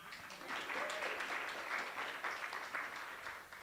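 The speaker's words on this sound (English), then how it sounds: "Yes, it's a moment for clapping." Applause from an audience during a virtual hangout on AI and youth income, heard as soft, steady, fairly distant clapping that holds for the whole clip without voices on top.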